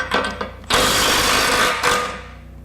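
A Milwaukee stubby impact wrench hammers against a bolt torqued to 150 foot-pounds, first in short taps and then in one sustained, loud rattling burst of impacts about a second long, close by with no speech.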